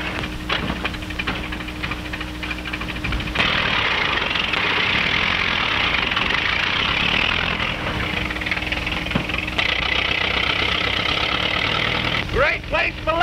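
An old 1929-era car engine runs and idles with a rough, knocking rumble, steady throughout, while people talk over it.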